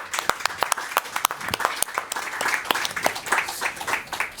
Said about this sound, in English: Let's have an applause for the panelists